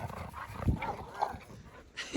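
Dogs, including a pitbull, play at a dog park in Clearlake, California. They give soft yips and short whimpering barks at moderate distance, with rustling between.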